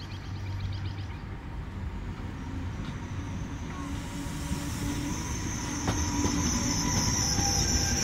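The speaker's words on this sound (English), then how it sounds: "12254 from Roma Termini to Civitavecchia with scheduled arrival at 16:47 is now arriving at platform 2" Regional train pulling into a station platform on the Rome–Civitavecchia line near Cerveteri-Ladispoli, a steady loud rumble of rolling wheels and carriages with rising metallic squeals of braking wheels toward the end, no voices.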